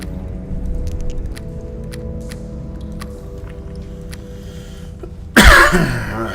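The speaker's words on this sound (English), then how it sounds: "I still got a bit of a cough here." A quiet room with faint clicks, then a single loud, close cough near the end.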